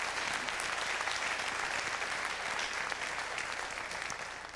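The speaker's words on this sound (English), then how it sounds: "absolutely give them a round of applause" Steady, dense applause from a community band concert audience fills the whole stretch, evenly sustained and fading only slightly near the end.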